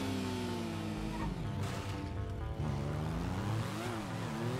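Motorcycle engine in GTA V, revving steadily with a droning, buzzing tone that rises and falls in pitch as the bike speeds along, loud and continuous throughout.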